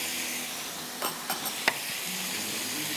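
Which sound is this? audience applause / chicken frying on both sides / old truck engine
chicken frying on both sides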